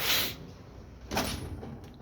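A tool box drawer slides open with a soft rolling glide and a muted bump at the end, quiet and close.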